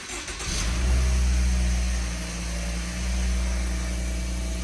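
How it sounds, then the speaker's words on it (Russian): A Toyota Noah's engine catches near the start, then settles into a loud, steady low rumble with slight swells of revving, heard close up with no talking. "Запускаем автомобиль."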